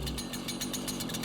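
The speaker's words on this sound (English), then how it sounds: "Chainsaw?" A chainsaw runs in a steady, loud, buzzing drone with a fast pulsing rhythm, heard briefly and close.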